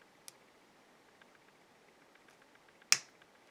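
A single sharp snip of jewelry wire cut with cutters while making a necklace loop, near and crisp, preceded by a faint tick and light handling in a quiet room.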